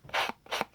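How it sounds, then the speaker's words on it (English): A sanding block rubs along the edges of a Mod Podged paper craft tag in two short, soft, scratchy strokes, each a close, dry rasp separated by a brief pause. "I always like to do a little bit of that sanding on the edges when I have something like this Mod Podged on it"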